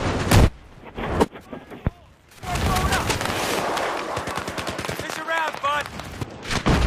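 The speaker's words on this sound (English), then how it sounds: "There's a guy sniping at us right now." Gunfire in a large-map vehicle shooter game, including sniper shots and rapid bursts, cracks loudly and repeatedly, with people talking excitedly over the shooting.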